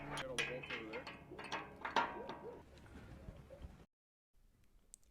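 Metal hardware on a solar pole mount's beam clamp being tightened, with a series of close ratcheting clicks and metallic clanks that fade before a short silence.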